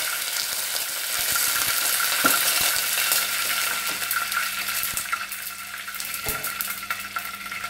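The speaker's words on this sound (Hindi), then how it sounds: "ऑयल गर्म हो गया है, अब हम इसमें सबसे पहले ये रेड चिली और ये करी लीव डाल देंगे।" Red chilies and curry leaves sizzle loudly in hot oil for tomato curry, a steady close crackle and hiss with a few small clinks, with no talking.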